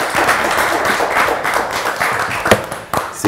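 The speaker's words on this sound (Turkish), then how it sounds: "Daha kuvvetli alkışları hak ettiniz." Studio audience applause on a Turkish quiz show, a dense wash of claps with a few sharper slaps standing out, steady and fairly loud throughout, with no talk.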